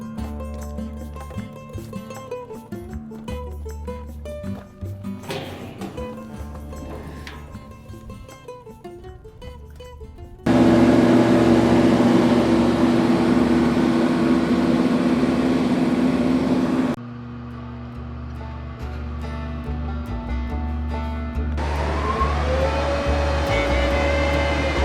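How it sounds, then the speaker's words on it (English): A big combination facer and planer flattening 8/4 lumber at a sawmill, with loud machinery that drops into a steady, intense roaring hum midway, cuts lower, then rises again. "this big machine, this big flattening planer, is it's actually a facer and a planer in one machine"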